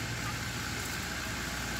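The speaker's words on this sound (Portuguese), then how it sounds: "tá um barulho aqui porque o homem tá passando com o trator limpando" A tractor clearing a park drones steadily nearby, its engine rumbling at constant loudness throughout with no voices.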